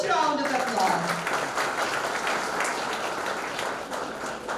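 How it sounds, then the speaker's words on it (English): School parents' event audience applauding an honoured speaker, busy clapping with voices over it, strongest at the start and easing slightly toward the end. "I think she deserves a huge round of applause."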